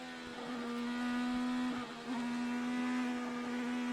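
An F1 car lapping Circuit of the Americas, a steady high-pitched engine whine held at near-constant pitch with a brief dip around a shift, loud and continuous with no talk.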